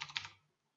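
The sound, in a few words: typing a message on a computer keyboard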